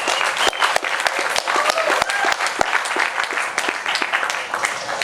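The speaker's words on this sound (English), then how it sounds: "Please, a warm round of applause for our panel." Warm applause from an audience greeting a panel at a medical marijuana discussion at Seattle Hempfest, loud and continuous with crisp overlapping claps and faint crowd murmur underneath.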